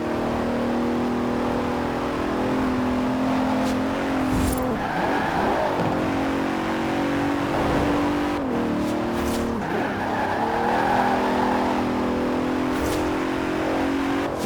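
A Bentley Continental engine roars and revs in Forza Horizon 4 racing, with a steady engine drone, rising and falling pitch as it shifts, and tires squealing through corners, close and continuous without voices.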